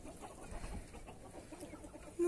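Soft, scattered clucking from several chickens eating vitamin feed in autumn, steady and fairly close, with a continuous farmyard murmur behind it.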